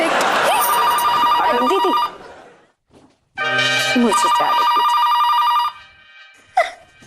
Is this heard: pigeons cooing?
no